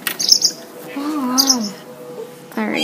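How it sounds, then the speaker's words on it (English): A mother bird at her nest gives two short bursts of high chirps near the microphone, while a person's voice murmurs and talks. "there's a mama bird"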